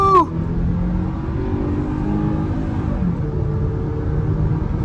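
A 2022 Hyundai Tucson N-Line in sport mode accelerates onto a multi-lane highway, a steady engine drone with rising tone, road rumble heard from inside the cabin after a brief initial chirp.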